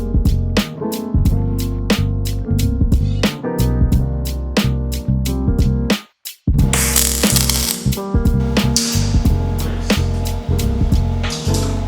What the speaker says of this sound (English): As you can tell, rattling, right? Part of that is it's not fully welded